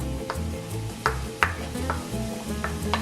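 Chopped red onion and jalapeño frying in avocado oil in a pan, a steady close sizzle broken by several clinks and scrapes of a utensil stirring against the pan.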